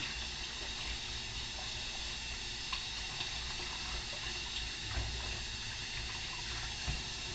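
Kitchen tap running steadily into a sink while fingers are rinsed under it, a continuous close hiss of flowing water with small splashes, no talking.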